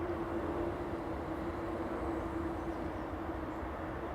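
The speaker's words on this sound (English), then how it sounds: "it may well be the high-speed train passing" A steady, distant rumble with a faint sustained tone runs throughout, like a high-speed train passing far away, with the M20 motorway audible in the distance and no voices.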